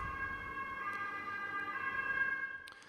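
An ambulance siren passes outside, its wailing tones steady and moderately loud, fading at the end with a brief click.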